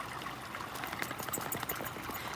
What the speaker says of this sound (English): I love this little creek here.